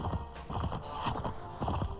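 Horse hooves clip-clopping in the Mount & Blade video game, a quick, close rhythmic series of hoof strikes at moderate-low loudness, heard alone.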